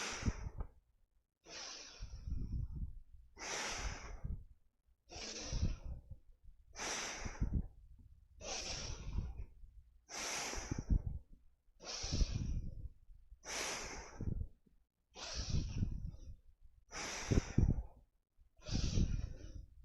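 Forceful yoga breaths in a kundalini-style session, about ten strong, evenly spaced exhales pushed through the nose, each a close, rough rush of air separated by short silences.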